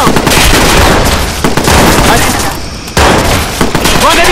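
Video game gunfire in Watch Dogs, dense sustained bursts of automatic shots that are loud and close, with in-game voices shouting over the barrage.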